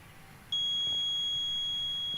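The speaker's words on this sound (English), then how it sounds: "the buzzer will produce a beep sound" An e-bike collision-warning buzzer switches on abruptly and holds a steady, high-pitched electronic beep without a break, ringing clearly over a quiet background.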